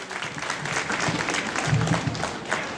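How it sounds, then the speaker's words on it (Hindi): Loud, sustained applause from a community gathering welcoming guests honoured with traditional Dhaka caps, a dense wash of clapping hands lasting throughout with a faint murmur of voices underneath. "जोरदार तालियों से स्वागत करें"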